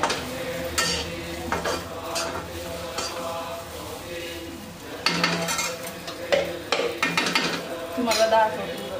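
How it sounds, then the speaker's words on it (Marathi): Masala fries in a pan while a spoon stirs and scrapes it, bright sizzling mixed with metallic clinks and scraping strokes that come in uneven bursts, close and moderately loud, with no talk over it. "आता सगळं फ्राय झाले, मस्त चांगलं फ्राय झाले"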